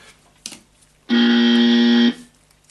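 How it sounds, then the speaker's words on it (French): A harsh, unpleasant error buzzer sounds from an Arduino prototype, one steady loud buzz held for about a second, with quiet room noise before and after. "on a entendu un buzzer extrêmement désagréable"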